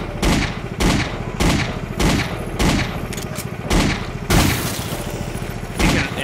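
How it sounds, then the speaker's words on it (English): Handgun shots ring out in Foreign Legion Multi Massacre, eight sharp cracks at a steady, roughly even pace, loud and close with no talking over them. "my little handgun that I'm shooting, it just does no damage to her"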